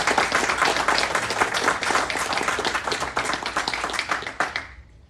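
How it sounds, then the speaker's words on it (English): A room full of attendees at an investor networking event applauds steadily for about five seconds, a dense wash of many hands clapping that fades out at the end, with no talk over it. "I think we can give Lindsey a round of applause."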